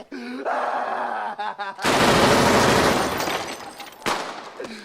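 Gunfire in a film scene plays as a dense burst of rapid shots and crashes after a stretch of shouted talk, loud and chaotic, then cut off abruptly.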